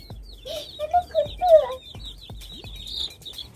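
Pet chicks inside their coop make short, scattered peeps and soft clucks, close by, with pauses between the calls and no talk.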